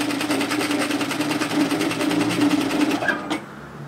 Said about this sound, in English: now sew up the side seam in a 1 centimetre, which is a 3/8 of an inch allowance